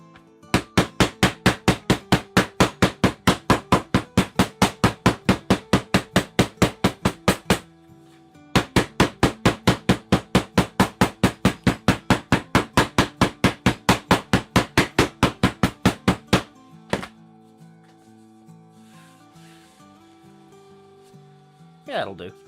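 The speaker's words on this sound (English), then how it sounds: "I am actually using the rawhide hammer because I don't want it to leave marks." A rawhide hammer pounding leather for trekker boots, delivering two long runs of fast, evenly spaced sharp blows, loud and close, followed by a lone strike and quiet room tone.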